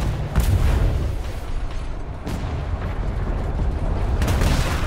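Ship cannons firing in a sea battle in the Atlas video game, heavy low booms rolling one after another at close range over a continuous rumble, with no talk.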